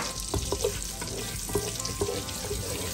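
Garlic frying in a pan for a lunch of ginataang kalabasa and sitaw with tiger prawns, a steady close sizzle broken by several sharp clinks and scrapes of stirring.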